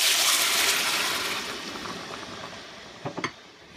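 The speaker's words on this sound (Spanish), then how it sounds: "Ahora le vamos a poner 2 tazas de agua." Water is poured into a hot pan of browned pork ribs, a loud rushing splash with sizzling that fades over a few seconds, ending in a couple of small clinks, with no talking.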